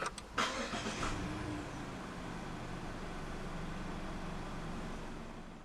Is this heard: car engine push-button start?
yes